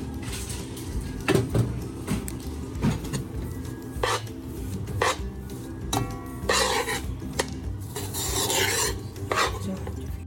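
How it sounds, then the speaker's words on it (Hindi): Poppy seeds being roasted with dry fruits in a pan for homemade panjiri, heard as repeated scraping and rasping strokes of a utensil against the pan, with clinks and rustling at an irregular rhythm, close and moderately loud. "खसकास को भी हम ड्राई फ्रूट के अंदर अच्छी तरह से भून लेंगे"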